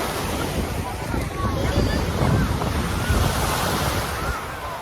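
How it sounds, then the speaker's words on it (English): Ocean waves washing onto a beach with clear teal-green water, a continuous rushing surf swelling and easing, heard under strong wind buffeting the microphone. "Walking along the beach right now."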